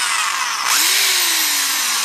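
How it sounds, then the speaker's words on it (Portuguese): An electric drill spins up from a lower pitch to a steady high whine, then runs continuously, loud and close with no voices. "Aqui estamos com a nossa furadeira"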